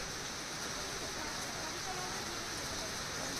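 Steady unseasonal summer rain falls gently in Gujarat, a dense, even hiss of drops with no breaks, heard at a constant moderate level throughout.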